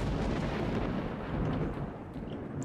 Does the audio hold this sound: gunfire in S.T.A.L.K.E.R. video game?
yes